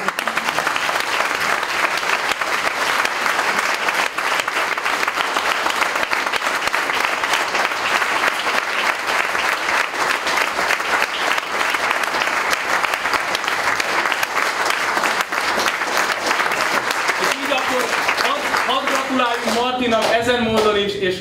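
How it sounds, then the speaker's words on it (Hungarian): A Hungarian concert audience gives long, sustained applause for the musicians after a performance of a new composition, a thick, steady wash of clapping that fills the room. Near the end a voice begins to emerge. "Én hadd kérjek egy nagyon nagy tapsot, természetesen azoknak a zenészeknek, akik ezt el tudták játszani."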